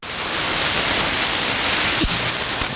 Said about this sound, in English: Stopped raining, but, I got some static crashes.